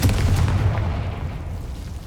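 A fiery Confringo spell blast in the Hogwarts Legacy video game, a loud, rumbling boom with a heavy low-end roll that sustains and slowly decays over two seconds.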